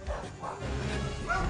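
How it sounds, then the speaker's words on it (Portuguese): A dog barks several times in short bursts, fairly close, over steady background noise. "Já tem um cachorro aí"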